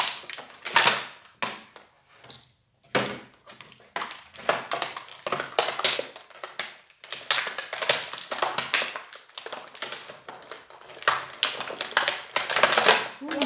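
Crinkly plastic packaging of a bag of crisps rustles and crackles in bursts, close up, with people talking over it.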